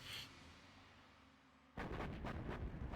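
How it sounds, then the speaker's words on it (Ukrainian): An artillery strike lands in Command & Conquer Generals Zero Hour: after a quiet stretch with a faint hum, loud booming impacts burst in near the middle and keep rumbling to the end. "Летить гарматний удар тепер вже від жовтого гравця на базу зеленого."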